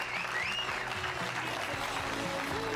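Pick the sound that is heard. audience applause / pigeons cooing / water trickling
audience applause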